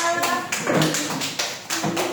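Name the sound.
classroom applause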